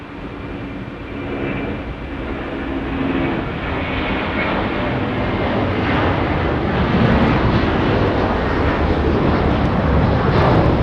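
An Air India airliner at Sydney Airport gives a steady, broad jet engine roar that holds loud and close for the whole stretch, with no voices over it.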